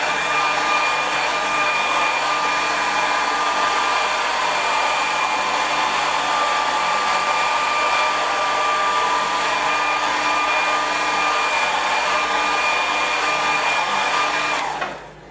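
Hair dryer blowing steadily on a watercolour painting, a loud continuous whirring roar that holds for about fifteen seconds and then cuts off.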